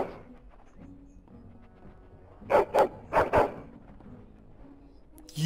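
A dog barks in the video game Dragon Age: Origins, four sharp mid-range barks in two quick pairs, loud against a quiet background with faint low ambience.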